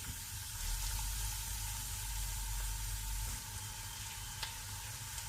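Chopped ginger, green chillies and garlic fry in hot oil in a pan, a steady soft sizzle and hiss that holds for several seconds with a few small pops, heard faintly and with no talking over it.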